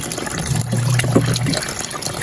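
Water pours into a cooking pot of chicken for kinamatisang manok, a steady gushing fill lasting about a second, close and moderately loud with no talk.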